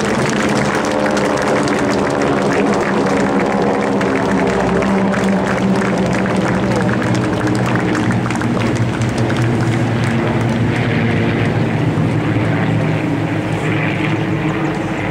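Propeller aircraft roar overhead in a Memorial Day ceremony fly-by, a loud, sustained engine drone that swells and fades as the planes pass, with no talk over it.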